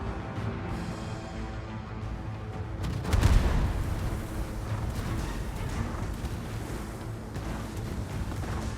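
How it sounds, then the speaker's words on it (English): An enemy ship fires a round of shells in a naval battle game, a heavy booming burst with a rumbling tail over steady engine and sea noise. "Let him fire the first set of rounds."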